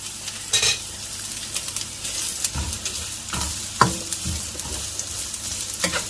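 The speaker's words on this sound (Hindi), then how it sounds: "गाजर को मैं थोड़ा सा ब्राउन करूँगा।" Long-sliced carrots sizzle in hot ghee in a wok, a steady close frying hiss broken by repeated scraping stirs of a spoon or spatula, with no talk.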